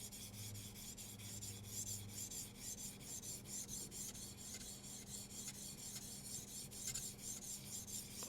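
A knife is drawn across a sharpener in a series of even, rhythmic rasping strokes, quiet and close, with no talking.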